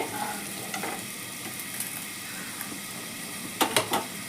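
Diced potatoes frying in hot oil in a pan used for cooking fish heads: a low, steady sizzle with occasional stirring scrapes and a couple of louder utensil clacks near the end, close and without talk.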